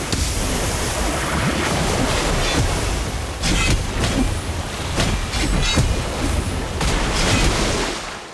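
Water spell splash in Harry Potter: Magic Awake, a loud continuous rushing, surging water roar with repeated swelling bursts, like crashing surf, filling the whole stretch without speech.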